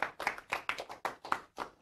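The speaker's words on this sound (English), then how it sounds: "Ladies and gentlemen, give yourself a round of applause." Students from an after-school math program clap in a small group, giving sharp, distinct bursts of claps in an uneven rhythm, close and fairly quiet, with no talk.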